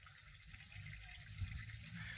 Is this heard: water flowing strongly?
yes